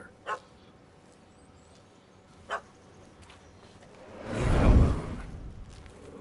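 A dog in The Witcher 3 video game gives two short, quiet barks a couple of seconds apart, followed by a louder swelling whoosh of movement, with faint game ambience between.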